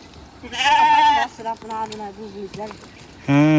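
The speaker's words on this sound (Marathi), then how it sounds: "सगळी मेंढरं आली ते झाडाच्या सावलीला" Sheep bleating near a shady tree on a farm, several loud, wavering calls in quick succession with a short pause between, one bleat ending abruptly and another starting at the close.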